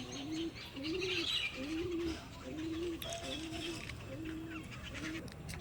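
Pigeons at their loft on a late afternoon give a steady run of soft, low coos, repeating about every second at close range, with a few higher chirps over a constant background hiss.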